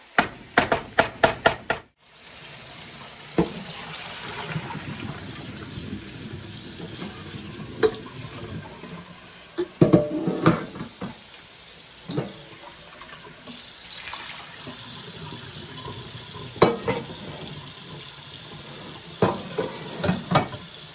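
Ground meat sizzling in a frying pan for lasagna, broken up with a spatula: sharp scrapes and clacks at irregular intervals over a low steady frying hiss, close up, with a burst of clicks at the start.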